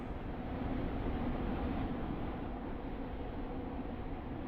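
A Class 707 train runs in the Stepford County Railway video game, giving a steady, muffled low rumble with a faint continuous hum, even and unbroken throughout.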